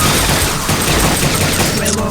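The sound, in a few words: gunfire in the video game Dino Stalker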